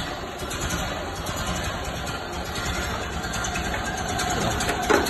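An original 1928 Ford engine idling steadily, a continuous low rumble with a faint irregular knock, close and alone with a slight rise near the end.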